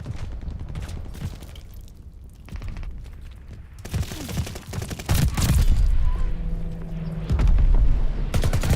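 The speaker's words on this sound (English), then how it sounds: "Allied mortar fire coming." Allied mortar fire in a war video game: a dense battlefield of rapid gunshots and repeated heavy booming impacts, some close and loud, with rumbling blasts building in the second half.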